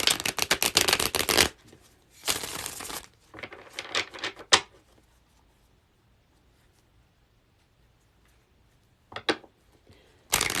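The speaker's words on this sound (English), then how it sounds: "I screwed up Kristen's shuffle, so I've got to do it again" A deck of tarot cards is shuffled in several short, crisp riffling bursts, close and clear, separated by quiet pauses.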